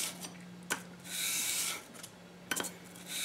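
Steel blade of a Craftool High-Tech leather splitter being sharpened on 320-grit wet/dry sandpaper, soft raspy strokes with a couple of light clicks, quiet and close.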